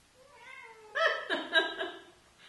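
A cat meows close by, a rising drawn-out cry followed by a few louder, strained wavering meows, heard alone indoors.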